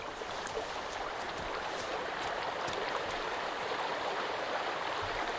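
Continuous, even rush of river water in the survival game Sons of the Forest, a steady broadband flow with no talk over it.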